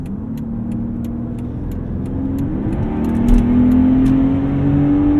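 A 2012 Mercedes-Benz S65 AMG accelerates hard from inside the cabin, its deep engine note swelling steadily into a loud, rising drone that holds strong to the end.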